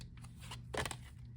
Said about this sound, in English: Damn, this is hard to shuffle.